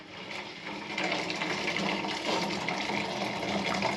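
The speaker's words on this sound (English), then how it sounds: "what I've decided to do is dump my coffee in there." Hot coffee poured into a countertop water distiller, a steady continuous liquid gush and splash lasting throughout, fairly close and even in level, with no talking.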